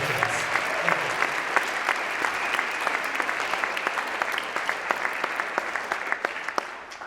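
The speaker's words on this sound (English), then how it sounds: "let's give all of our guests a round of applause for supporting us" Audience applause for guests at a North Country Carol performance, a dense, steady wash of many hands clapping with sharp individual claps standing out, sustained throughout at fairly close range.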